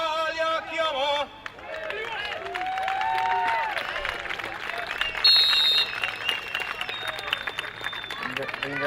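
A crowd at a memorial youth football tournament applauds a tenor just after he sings the Italian national anthem. The clapping is broad and steady throughout, with a brief dip near the start and some faint chatter mixed in.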